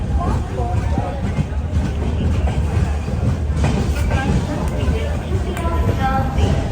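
Goa Express pulling into Belagavi railway station, a steady rumble of rolling carriages with faint clattering amid a busy platform crowd, people talking over the noise.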